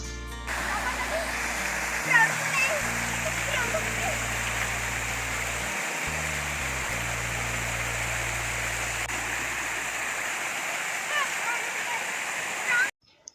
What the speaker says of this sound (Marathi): पाण्याचा एवढा खळखळ आवाज येत होता